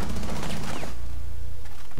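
Rapid automatic gunfire from a 50-round magazine in the video game Rainbow Six Siege, a dense continuous burst that fades into a sustained rumble and ringing tail.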